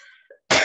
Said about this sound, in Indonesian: ini memang sedang agak batuk